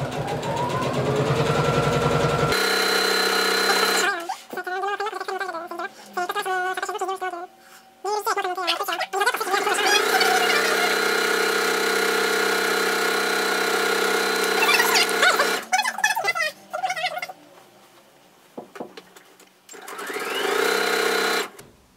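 A domestic sewing machine stitches fabric for a kimono or yukata in fast bursts. It runs at high speed with a buzzing whirr, stops for pauses, and starts again. Someone talks between the runs.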